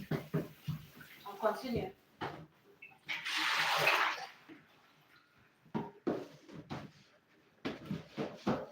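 Tap water splashes for about a second as seafood is rinsed in a kitchen, fairly close, with someone talking before and after the burst.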